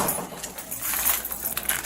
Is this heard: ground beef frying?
no